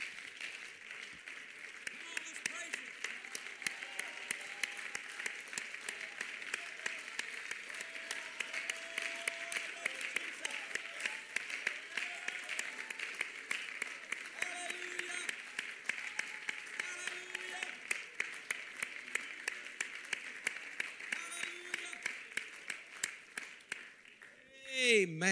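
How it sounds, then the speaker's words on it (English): Congregation clapping hands during an evening church service, a long steady run of dense, fast applause, with voices and music faint underneath. It ends in a brief loud swell. "Let's clap our hands to Jesus and magnify him together right now."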